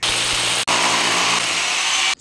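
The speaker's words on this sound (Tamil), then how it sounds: "ட்ரில்லிங் இவ்வளோ வந்துட்டு ஆழமாக இறங்குது இல்லைங்களா?" A power drill bores into the floor of a house for anti-termite treatment, giving a loud, steady, harsh whine that stops briefly and then runs on without talk.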